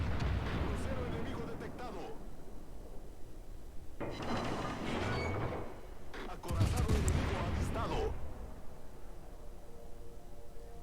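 Naval gunfire in a video game aimed at the Ibuki, with heavy booming salvos arriving in bursts of a second or two over a constant rumble, while a voice talks through it.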